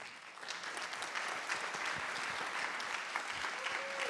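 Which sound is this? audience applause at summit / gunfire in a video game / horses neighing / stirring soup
audience applause at summit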